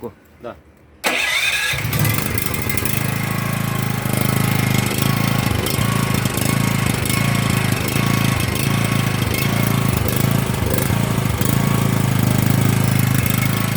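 A three-phase portable petrol generator, sold as a Honda but not genuine, cranks and catches after a second of quiet. It then runs at a steady, loud, droning idle for the rest of the clip while a voice talks over it.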